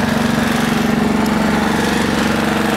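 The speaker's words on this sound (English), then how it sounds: "So I wanted to break out the pressure washer for that." A pressure washer running near a ceramic-coated truck being washed, a loud steady engine drone with a pulsing hum, continuous and close with no voices.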